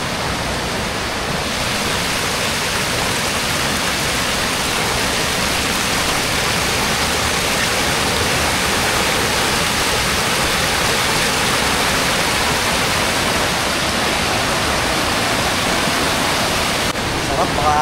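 Pinamun-an Falls in Nagcarlan, Laguna, a powerful waterfall roaring as a constant dense wash of rushing water, loud and close throughout with no pauses.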